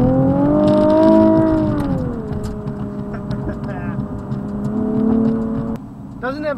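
A Nissan 370Z Nismo sports car's engine drones steadily from inside the cabin while driving, its pitch easing down as revs fall, with a voice speaking over it.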